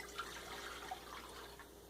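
Water is poured into a pot for cup-of-soup in a home kitchen, a soft, quiet trickle with a few light drips and splashes over about two seconds, with no talking.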